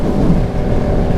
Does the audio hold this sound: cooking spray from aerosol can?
no